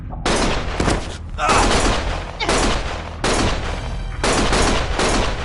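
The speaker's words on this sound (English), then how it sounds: "Stop shooting!" Gunfire rips out in the game Lost Judgment, four loud, sustained bursts of rapid shots separated by brief gaps, close and dominant.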